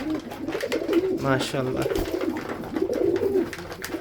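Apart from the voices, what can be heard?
pigeons cooing while eating corn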